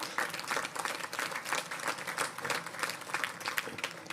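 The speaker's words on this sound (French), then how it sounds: "il faut l'applaudir" Applause from an audience at a mayor's New Year address in Valence, honoring Marie-Pierre; dense, steady clapping from many hands fills the room throughout, close and sustained with no speech over it.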